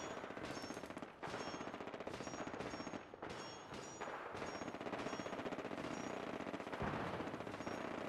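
Sustained machine gun fire and scattered gunshots from a firefight in the video game Fallout 4, loud and continuous throughout with dense rapid bursts and no break.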